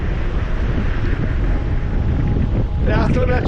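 Strong, cold wind gusts hard at Horsetail Falls in Tasmania, Australia, buffeting the microphone with loud, continuous roaring rumble, while a person speaks over it near the end.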